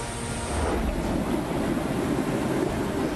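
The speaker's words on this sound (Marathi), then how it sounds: "धरणातून नदीपात्रात मोठ्या प्रमाणात पाण्याचा विसर्ग सुरू आहे" Floodwater released from a full dam on the Nira-Deoghar reservoir rushes into the river in heavy monsoon rain, a steady, loud, broadband roar of churning water with wind buffeting, continuous and unbroken.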